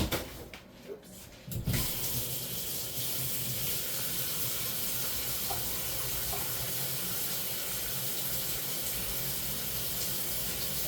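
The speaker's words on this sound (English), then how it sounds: "Let me just strain this pasta." Cooking water from a pot of pasta pours into a sink as the pasta is strained, a loud continuous splashing hiss with steam that starts abruptly after a couple of seconds of quieter handling noise.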